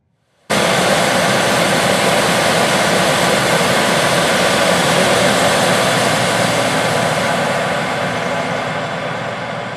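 A John Deere S770 combine harvester working a harvested cornfield gives a loud, steady broadband engine roar and whirr that starts abruptly and holds constant, easing slightly toward the end.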